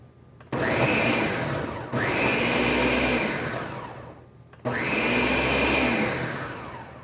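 A food processor whirs in three loud bursts, motor whining up and chopping vegetables and jalapenos for salsa, with short pauses between each pulse.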